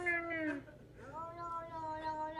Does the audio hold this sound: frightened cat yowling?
yes